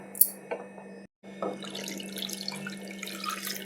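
Water pours into a cooking pot in a continuous splashing stream after a few brief clinks, running steadily to the end, while goat leg soup is being prepared.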